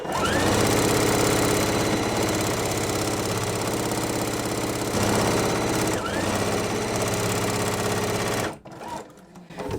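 A domestic sewing machine stitching pinned quilt pieces together runs in steady, loud, rapid bursts with a couple of brief pauses, then stops abruptly near the end, leaving quiet handling noise.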